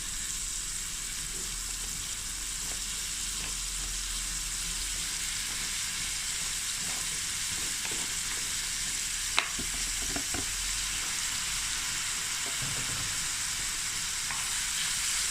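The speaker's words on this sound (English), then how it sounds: "now we're going to stir fry this for about 5 minutes" Frozen shelled mussels stir-fry in a pan with an even, continuous sizzle and a few sharp clicks and taps from the utensil, close up and without speech.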